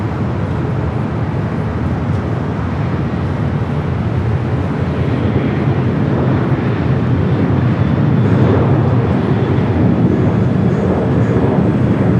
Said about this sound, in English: 757 pushing back from Terminal 7 there on the south side.